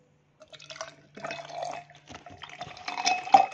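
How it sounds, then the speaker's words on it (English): Apple juice poured from a shaken carton into a container, a soft liquid trickle and patter that swells toward the end, with light handling clatter and no talk. "You want to pour about this much in."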